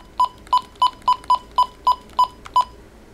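Phone keypad dialing tones play while a call is placed on a jailbroken iPhone, about nine short, clear beeps in a quick, even sequence, close and alone.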